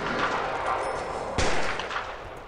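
Gunfire in the prison-building game Prison Architect: a single sharp shot rings out midway over a constant background hum, with no other shots around it.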